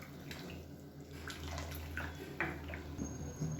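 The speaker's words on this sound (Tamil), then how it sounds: "இப்போ இந்த சூடான தண்ணியை அதில் சேர்த்துக்கலாம்" Hot water poured and splashing into a pot of black-eyed pea curry, soft and close, with scattered drips and light clinks.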